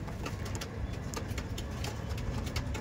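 Madras pigeons cooing close by, a low steady murmur of coos running through the whole stretch over a busy background.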